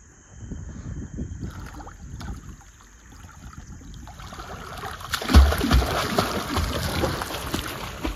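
A swimmer pushes off the pool wall and kicks, the water swirling and splashing, growing louder and more choppy in the second half, close by with no talk.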